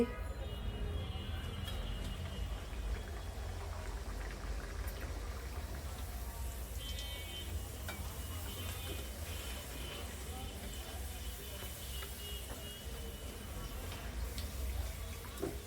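Luchi, the puffy fried flatbread, cooking in a pan of hot oil, giving a steady, close bubbling and crackling hiss that runs unbroken throughout with no one speaking.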